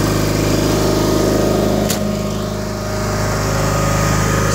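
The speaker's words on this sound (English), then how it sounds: "The opposed twin engines really have a nice sound to them." Opposed-twin engine of a 1987 John Deere 316 lawn tractor running steadily up close, a loud continuous drone with a brief dip near the middle and no talking.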